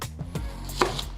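Kitchen knife cutting a large onion on a board, a few soft chopping thuds close by with no talk.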